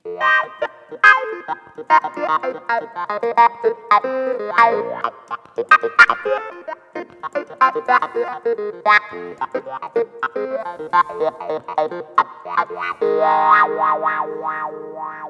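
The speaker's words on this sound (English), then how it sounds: "this killer clav sound with the pedal wah effect" Funky clavinet riff on a Yamaha CP73-88 stage piano with a wah pedal sweeping the tone, plucky staccato notes in bursts, ending in a sustained, wobbling chord.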